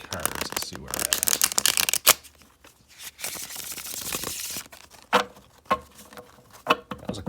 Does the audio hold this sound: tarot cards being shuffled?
yes